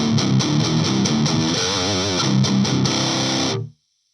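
Heavy distorted electric guitar captured through a 57 microphone plays chugging riffs and a wavering bend, loud and close, then cuts off abruptly near the end with no talking.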